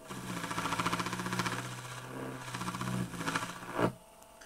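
A Jool Tool rotary machine spins while polishing jewelry, a close, steady buzzing motor hum with slight wavering as the piece is worked, ending in a brief scrape before dropping quieter.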